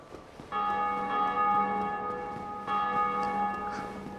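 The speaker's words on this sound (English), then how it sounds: "I just heard the bell ring twice in a row." Two loud, resonant strikes of a large church-style bell in the game Dark Souls, each ringing out with a long, shimmering sustain, the second following about two seconds after the first.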